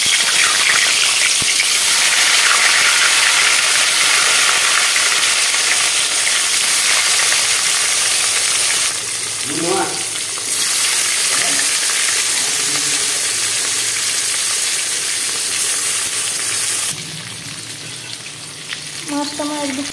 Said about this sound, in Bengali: তেল গরম হয়ে গেছে, আমি মাছ দিয়ে দিচ্ছি।